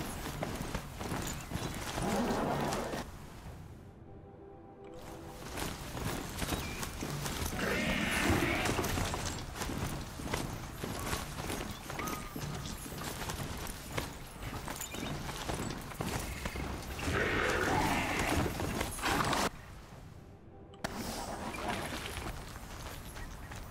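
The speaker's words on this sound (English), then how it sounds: "I'm glad I'm on a giant ram." Video game Horizon Zero Dawn: a giant machine ram mount's hooves clop steadily along a rough goat trail through woods, rhythmic and close, with brief breaks and an ambient game soundscape behind.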